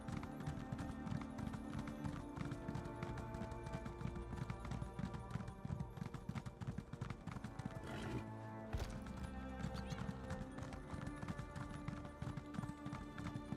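A ridden horse's hooves in the Elder Scrolls Online video game beat out a brisk, continuous clip-clop at close range, with a short gap near the middle and a whinny in the mix.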